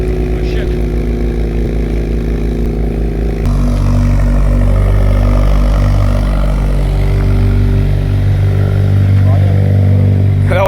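A car engine roars and revs loudly through a single exhaust, a steady low rumble that steps up in pitch partway through and holds, with people talking over it.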